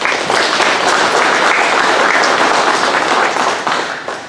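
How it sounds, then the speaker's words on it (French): A church congregation applauding at the end of mass, a steady dense wash of clapping from many hands that holds even, then thins and tapers away near the end. "Nous pouvons les applaudir."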